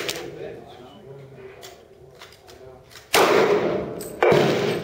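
A small Glock pistol fires twice, two sharp loud cracks about a second apart near the end, following quiet handling noise and faint rustles, heard from the shooter's position at a range.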